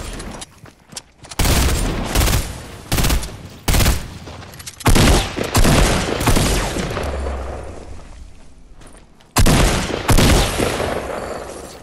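Bursts of gunfire crack out loud and close in a game firefight, repeated volleys and rapid automatic fire in irregular clusters with short gaps between them, no talking.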